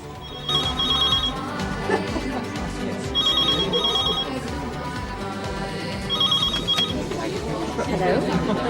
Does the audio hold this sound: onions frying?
no